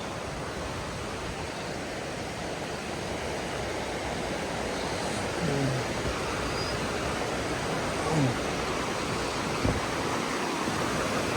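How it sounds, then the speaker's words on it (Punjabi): Steady rushing water fills the scene, a continuous broadband wash of a waterfall-fed stream in Barot Valley, Himachal Pradesh, with a few faint brief sounds over it. "ਇਹ ਜਿਹੜਾ ਉੱਪਰ ਲਪਾਸ ਝਰਨਾ ਮੈਨੂੰ ਲੱਗਦਾ ਉਹਦਾ ਪਾਣੀ ਵੀ ਇੱਥੇ ਆਉਂਦਾ ਹੋਊਗਾ"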